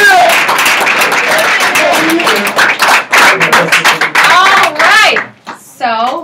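Lively audience clapping and cheering at a team training event, loud dense claps for about five seconds with shouts mixed in, then tapering off as voices take over near the end.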